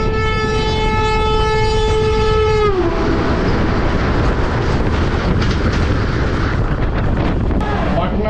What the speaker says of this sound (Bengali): পাটনা বন্দে ভারত বেরিয়ে গেল